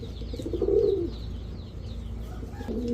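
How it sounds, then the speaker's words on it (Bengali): Pigeons coo softly at close range, a pair of white Danish pigeons among a seller's birds, with a few low rolling coos and faint chirps over a quiet background. "এখন এক জোড়া ড্যানিশ কবুতর দেখাবো হোয়াইট ড্যানিশ"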